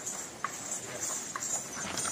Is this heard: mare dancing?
yes